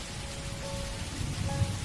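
Steady rain falls on a night setting in an animated Hindi horror tale, a continuous dense hiss with a few soft low rumbles, alone with no voices.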